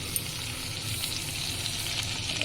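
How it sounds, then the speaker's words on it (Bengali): Tomatoes fry in mustard oil in a wok, giving a steady, close sizzle that holds evenly throughout with no voices. "দিয়ে এতে আমি টমেটো যে সাইজ করে কাটা সেটা আমি দিয়ে দেবো"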